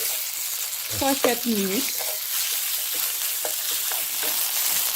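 Cashew chicken frying in a pan gives off a dense, close sizzle, and stirring scrapes sound through it while a voice speaks briefly near the start.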